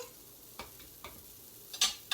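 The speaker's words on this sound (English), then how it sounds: "I'm going to put a little bit of margarine in my pan. Here it's sizzle." Faint sizzling of margarine in a frying pan, with a few soft clicks and scraping taps scattered over a quiet background.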